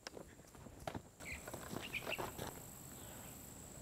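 Horse hooves clip-clop in a quick, uneven run of light knocks, faint and somewhat distant against a quiet outdoor background, fading after a couple of seconds.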